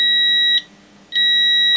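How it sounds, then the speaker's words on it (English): A continuity tester beeps as its two alligator clips are bridged together: two steady, bright electronic tones, each about half a second long, separated by a short gap. "I always do this quick test just to make sure everything's working by bridging these 2 together and hearing it beep."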